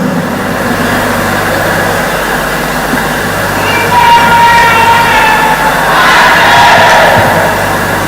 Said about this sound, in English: Can I give him a round of applause as he comes forward